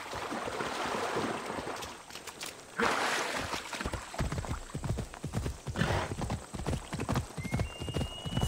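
Horse hooves clip-clop steadily on the ground in Assassin's Creed Odyssey, a close, continuous trot with a brief whooshing swell partway through and faint ambient game sound underneath.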